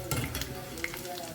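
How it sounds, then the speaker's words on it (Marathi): Cornflakes frying in oil for chivda, a brief close sizzle with a few stirring clinks and rustles, fairly quiet. "हांव ते कॉर्नफ्लेक्स आहा पळय फ्राय करून घेता"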